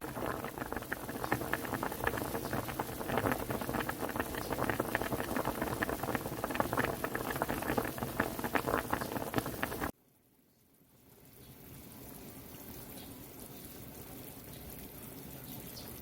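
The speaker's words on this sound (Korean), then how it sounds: "끓는 지가 한 20분 됐거든요." A small pot of beef trotter soup bubbles and boils vigorously for about ten seconds, then the sound drops off abruptly and a quieter, steadier simmer continues as the heat is lowered to medium.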